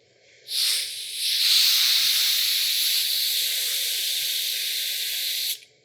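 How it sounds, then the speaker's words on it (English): Air from a worn air chuck hisses steadily into a flat bicycle inner tube for about five seconds, a loud continuous close-up rush after a brief initial burst, with no talking. "my little trick is to inflate the tube to find out where the leak's coming from"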